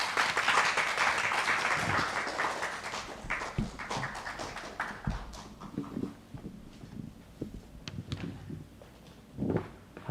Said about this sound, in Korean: 박수로 힘차게 환영하도록 하겠습니다